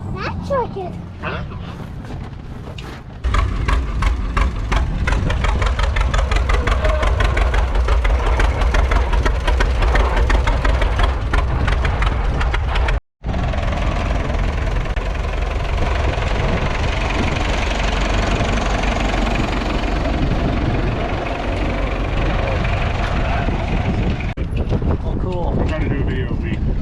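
A truck engine idles at an antique tractor show, with a steady mid-to-low rumble that runs loud and close throughout, broken only by a brief drop-out. People talk over it, with some wind buffeting on the microphone.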